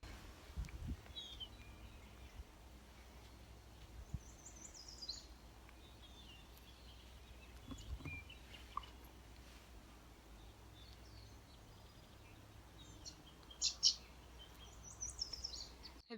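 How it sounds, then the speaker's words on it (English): A yellow warbler sings in a county park, with faint, distant bursts of high, quick notes in short phrases over quiet outdoor background, the clearest run near the end. "I've been hearing a yellow warbler singing."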